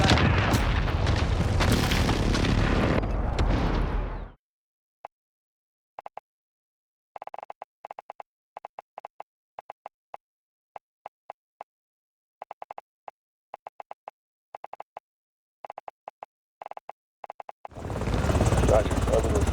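Airstrike explosions and an enemy helicopter gunship in the shooter Call of Duty: Modern Warfare (2019) make a loud roaring blast of battle noise, then sparse faint clicks through a quiet stretch, before the heavy rumble returns at the end.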